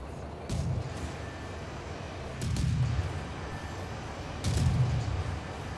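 Heavy megaton cannons fire in the TerraTech video game, three deep booming thuds spaced about two seconds apart over a constant low mechanical rumble, no talk.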